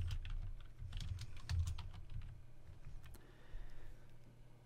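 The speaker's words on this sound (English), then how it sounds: "here you will type your whatever your name is" Computer keyboard typing in a quick run of light, close key taps over faint background hum, tapering off toward the end.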